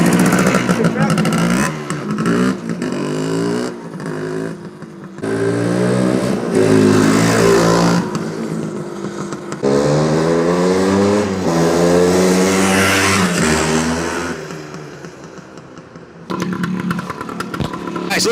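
Original 1978 Suzuki DS185 motorcycle engine revs up and down in repeated surges, loud and close, with brief idle dips between blips.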